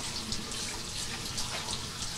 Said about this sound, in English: When the water is clear, running out of the filter, then you are done.